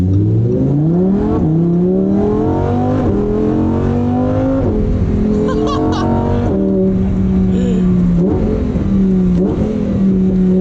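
Lamborghini Huracan Performante engine accelerating through repeated gear changes, its loud, close roar climbing in pitch and dropping at each shift, continuous throughout with no talk.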